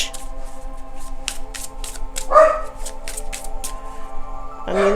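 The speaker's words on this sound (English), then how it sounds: "I don't know what you barking at." Indoors, a dog gives two short bark bursts, one midway and one at the end, over a constant background hum and a run of faint clicking ticks.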